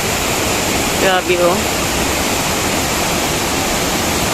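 Mag-aso Falls pours with a loud, constant roar of rushing water, and a person briefly exclaims over it.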